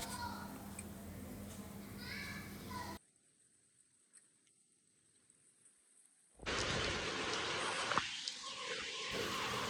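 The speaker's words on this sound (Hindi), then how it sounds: "पक्की छत पर जमा पानी और उसके ऊपर गिरने वाली बारिश" Voices talk at first, then after a quiet gap heavy monsoon rain pours loudly and steadily onto a concrete roof with pooled water, close by, in a mountain village.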